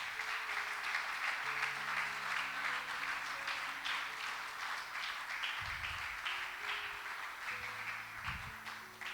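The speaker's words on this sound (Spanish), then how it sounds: "dale un aplauso fuerte al Señor" A church congregation applauds with sustained, moderately loud clapping, while low sustained tones hum underneath and a few heavier thumps stand out near the end.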